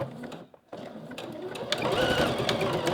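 A sewing machine secures the end of thin elastic, starting after a brief pause and then running in a steady, close whirring burst that builds slightly louder toward the end.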